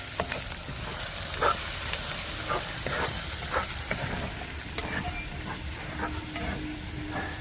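Onion and curry leaves fry in oil, a loud, dense sizzle with scattered scraping knocks as they are stirred around the pan at close range.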